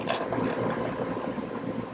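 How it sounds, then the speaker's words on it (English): A screw is turned out of freshly cut threads in a model airplane wheel pant on a SIG KB Super Chipmunk build, giving a steady close grinding, ratcheting rasp with no pauses. "I'm going to go ahead and cut the threads here with the screw all the way through and back it all the way out"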